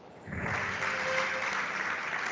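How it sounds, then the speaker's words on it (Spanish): A church congregation applauds for Juancito at a pastor's campaign service, a dense, steady wash of clapping that swells quickly and holds for a couple of seconds. "Denle un fuerte aplauso a Juancito."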